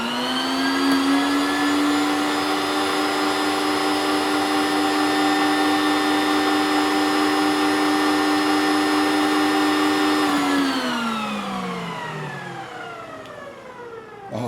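An electric mixer whirs through banana bread batter with buttermilk, a steady loud motor whine with strong harmonic tones that holds evenly for about ten seconds, then winds down in pitch as it slows and stops.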